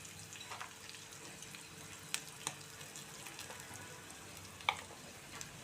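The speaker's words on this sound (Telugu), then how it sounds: "మనం కొంచెం ఉల్లిపాయ ముక్కలు మెత్తబడేంత వరకు వేయించుకుందాం" Onions sizzle softly in a pan for egg curry, a quiet steady frying hiss with a few faint clinks of stirring.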